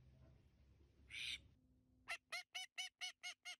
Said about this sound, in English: male and female ducks sound different.